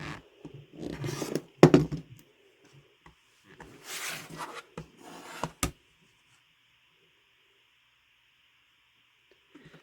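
Pressed quilt fabric squares are trimmed to 3.5 inches with a few bursts of scraping and crisp cutting strokes up close, then quiet, over a faint steady background hiss.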